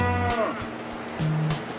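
Cattle lowing inside a barn, one deep sustained moo followed by a shorter lower call, close and fairly loud with little else around them.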